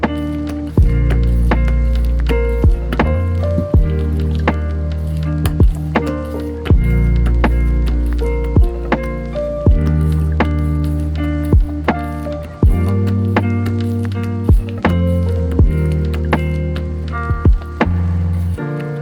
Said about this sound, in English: I will keep mixing this butter until the sugar gets completely dissolved in it